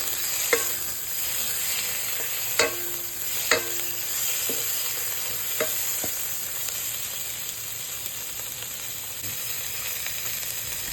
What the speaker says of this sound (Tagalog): Pag okay na guys at medyo nag-brown na yung mga bawang, ilagay naman natin yung kamatis.